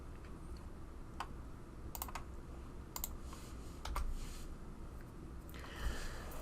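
Light clicking keystrokes on a computer keyboard while entering a formula in Microsoft Excel, a few scattered taps and short clusters, faint and close over a quiet hum.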